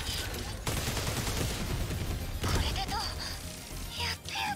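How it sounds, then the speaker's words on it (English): A barrage of missiles striking in a 13 Sentinels: Aegis Rim battle, a dense, continuous rumble of impacts and crashes with sharp bursts and electronic game effects layered on top. "it means that it's hitting 8 times, there's 8 missiles"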